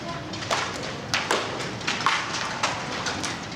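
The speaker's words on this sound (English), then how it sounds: "That's a brutal hailstorm." Irregular hard taps and thuds from a hailstorm strike against a steady noisy wash, pelting surfaces nearby in scattered bursts.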